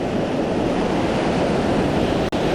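Ocean surf breaking on a beach while hunting for beach worms for fishing bait, a loud, continuous wash of crashing waves heavy with wind rumble and no talking.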